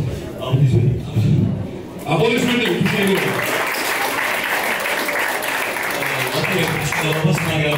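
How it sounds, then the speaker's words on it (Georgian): Applause for the fighters at a TFC 24 Junior combat event, first beneath a speaking announcer, then a crowd's sustained clapping swells loud and continues to the end. "აპლოდისმენტები"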